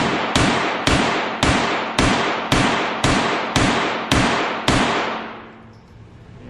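Nine sharp, evenly spaced shots from a .22 pistol during trigger practice at an indoor range, each a loud crack with a short ringing decay, fired at a steady rhythm of about two per second, then quiet.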